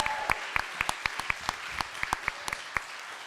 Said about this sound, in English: Can we please give Sophie a massive round of applause?